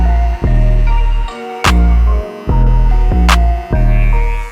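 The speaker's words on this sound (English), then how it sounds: "Grab my clipper, start again." An electric hair clipper runs through a skin fade haircut with a steady, loud motor hum that cuts out briefly twice and starts again.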